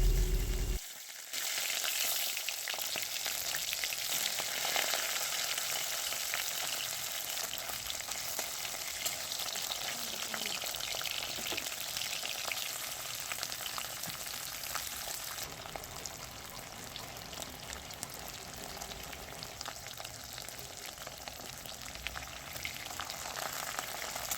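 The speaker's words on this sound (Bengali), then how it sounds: "এবার তেল গরম হওয়ার পর মাছগুলো এক এক করে ভেজে নেওয়া হবে" Steady, dense sizzling of pomfret fish frying in hot oil, a continuous crackling hiss with occasional pops, close and fairly loud throughout.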